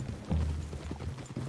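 Horse hooves clip-clop in a video game, a short run of steady, fairly loud hoof beats lasting just over a second.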